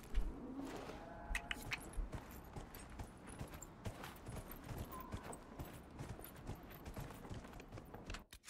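Horse hooves in the Dragon Age Inquisition video game, a quiet steady clip-clop of a galloping mount with faint mechanical rattling, continuous throughout at low volume.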